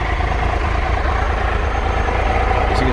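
A 2015 Triumph Tiger Explorer XC adventure motorcycle sits idling, its three-cylinder engine giving a steady, close, even low rumble with no revving.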